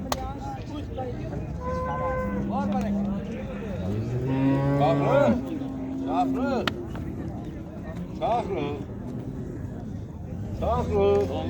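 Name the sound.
cow mooing at a livestock market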